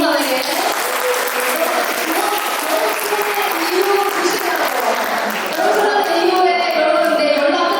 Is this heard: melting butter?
no